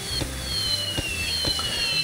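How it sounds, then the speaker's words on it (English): Fireworks in the video game Bloons TD 6 pop and crackle in a steady run of sharp bursts over a low droning game soundtrack. "Let's get some fireworks shooting off."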